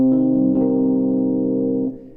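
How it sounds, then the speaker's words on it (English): A Rhodes-style electric piano patch with reverb and delay, played on Ableton Push 2, rings out as one sustained chord with warm, even harmonics that hold steady before fading into a reverberant tail. "I've just loaded a simple kind of Rhodes sound with some reverb and delay on it"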